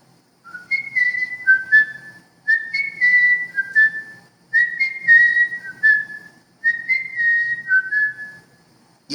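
A person whistles an imitation of a small bird's trilling song, four phrases of rising and falling warbled notes separated by short pauses, close and clear with no talking.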